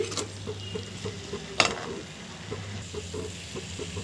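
Boiled eggs cook in a pan with onions and spices, a soft low sizzle beneath quiet stirring scrapes and one sharp utensil clack near the middle.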